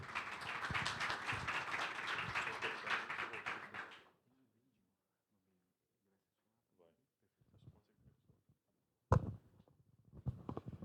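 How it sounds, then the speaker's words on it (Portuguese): Conference audience at the M-Share 2026 event gives dense, loud applause for about four seconds, then it cuts to near quiet with a few faint taps and a brief voice. "uma salva de palmas"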